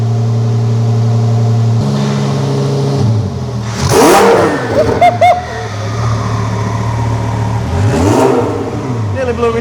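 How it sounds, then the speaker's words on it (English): 1000 BHP Lamborghini with a custom-fabricated exhaust: a steady, close idle rumble broken by two sharp rev blips that flare and fall away, with people talking nearby. "We'll let it have a little warm up a minute and then we'll get a little rev"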